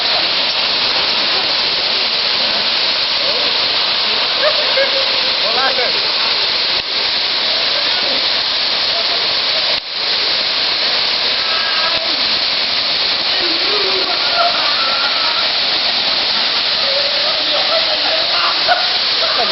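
Waterfall at Chapada dos Guimarães roars in a loud, steady broadband rush, with faint voices talking now and then over the constant falling water.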